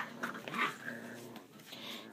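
Six-week-old puppies whimper and yip in soft, high, intermittent cries, fairly faint and close, with a few brief squeals and no talk.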